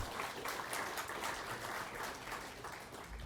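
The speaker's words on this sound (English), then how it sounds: "Ladies and gentlemen, what about another round of applause for Dr. Lois Peeler AM?" Steady, dense applause fills a function room at the RACV City Club as an audience at a Neighbourhood Watch Victoria 40th anniversary event claps for Dr. Lois Peeler AM, continuous and even throughout.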